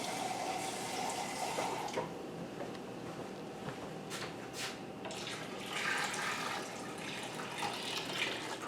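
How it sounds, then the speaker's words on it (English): Water runs from a tap into a metal canning pot, a faint, continuous splashing stream with small shifts in tone as the pot fills. "Now I'm just going to finish filling up my canner"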